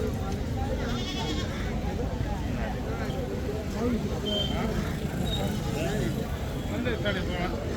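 Goats and big bucks bleat amid the crowd noise of a weekly Monday goat market in Kalamb taluka, Dharashiv, with someone talking over the steady background hubbub.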